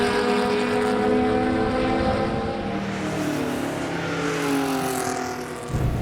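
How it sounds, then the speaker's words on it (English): A Volvo 850's five-cylinder engine roars steadily at racing speed around the Watkins Glen track during a GRIDLIFE event, its harmonic drone rising and shifting through gears, loud and close for the whole stretch. "I was able to just get a taste of that glorious 5-cylinder sound bouncing off the walls of Watkins"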